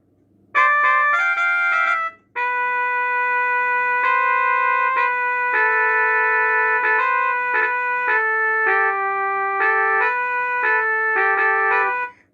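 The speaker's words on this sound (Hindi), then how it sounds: "तो ये ट्रम्पेट की आवाज थी।" Trumpet playing a melody of bright, steady held notes in short phrases with brief gaps, loud and clear, heard alone with no talk.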